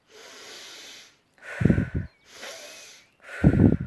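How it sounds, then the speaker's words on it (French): Two deep, forceful nasal inhalations during a guided relaxation and energizing exercise, each preceded by a softer, long airy breath, close and clear with no talking. "nous allons prendre plusieurs inspirations toniques."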